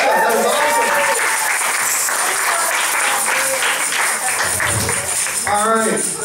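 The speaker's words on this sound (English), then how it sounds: "Give yourselves a round of applause, guys." An audience at a Sunday Assembly gathering applauds, a loud, dense wash of many hands clapping that holds steady throughout, with voices and cheers mixed in.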